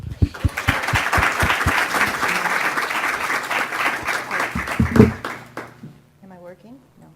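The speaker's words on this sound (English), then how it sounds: "let's give her a round of applause." Round of audience applause at an academic workshop welcoming a guest speaker, a dense loud wash of clapping for about five seconds that fades out, with a few sharp individual claps at the start and a voice briefly after.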